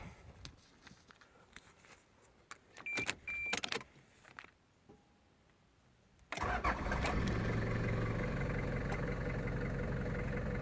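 A 1993 Toyota Hiace Super Custom Limited 4x4 van's diesel engine cranks and catches after some nearby clicks and rustling, then settles into a loud, steady idle that runs to the end.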